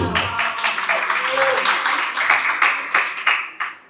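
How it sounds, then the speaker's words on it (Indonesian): Audience of university students applauding at a campus outreach event at UIN Jakarta, a dense, steady burst of clapping with a few sharper claps near the end, fairly close and loud, with voices mixed in. "Tepuk tangan buat Ibu."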